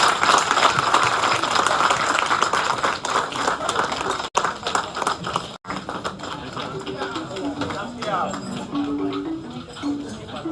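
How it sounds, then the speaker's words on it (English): An audience at the Ghana at 69 celebration at the high commission in Pretoria, South Africa, claps for the Asantehene Osei Tutu II, a dense, sustained round of applause that keeps going for about ten seconds, with a voice over it. "a louder applause for His Majesty Osei Tutu II"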